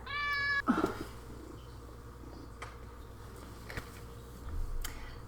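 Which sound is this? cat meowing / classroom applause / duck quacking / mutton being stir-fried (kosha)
cat meowing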